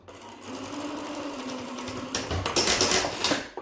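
A sewing machine runs a fast, steady stitching whir while sewing a decorative pillow, close and clear, speeding into a louder rattling burst near the end before stopping.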